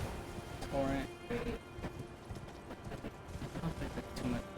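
Torrent, the horse in the Elden Ring video game, gallops in a quick, irregular clip-clop of hooves, quiet and close, with occasional short tonal game effects and faint talk.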